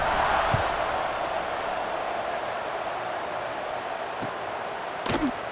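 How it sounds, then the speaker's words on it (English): Stadium crowd in a college football video game, a steady broadband roar and buzz of fans after a score, continuous and fairly distant, with a couple of brief sharp knocks near the end. "this crowd is buzzing after that last score"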